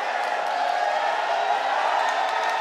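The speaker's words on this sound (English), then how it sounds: "The crowd roaring. They're liking the action." Boxing arena crowd during a bout between Kenneth Llover and Benny Canete, a steady, dense roar of many voices that stays loud and unbroken throughout, with no distinct claps or single shouts standing out.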